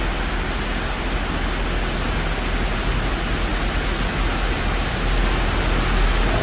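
Heavy rain pours steadily during a severe storm with a tornado warning and flooding on a road, a dense, constant loud hiss filling the whole clip with no break.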